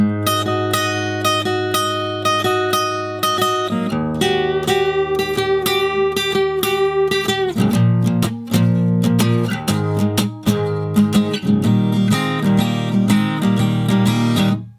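Electric guitar plays a rock and roll solo at a slow tempo, with punchy dominant-seventh double stops and bending lines, loud, close and unaccompanied.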